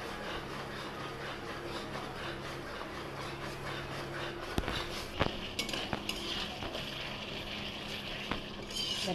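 Ground spice masala frying in oil makes a low steady sizzle, with intermittent clinks and scrapes of a spoon against the pan, close by, no voices.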